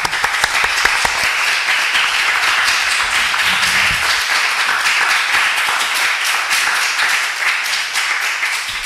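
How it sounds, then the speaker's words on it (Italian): Sustained, dense audience applause fills a lecture hall after a talk, loud and steady for about nine seconds with no break. "Un meritatissimo applauso."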